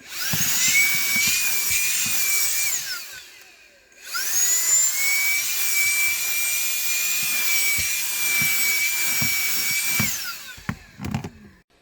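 A Moosoo K12 cordless handheld car vacuum runs on a vehicle's floorboards with a steady high-pitched motor whine. It cuts out briefly, restarts and holds an even drone, with scraping and rubbing underneath, then shuts off near the end.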